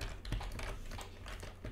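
Fast clattering keystrokes on a Swedish computer keyboard, a steady run of close, crisp clicks with a few louder key hits, over a low background hum.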